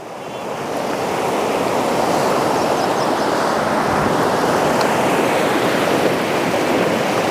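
River water flowing in Barot valley, a broad steady rushing wash that swells in over the first second and then holds loud and unbroken, with no voices.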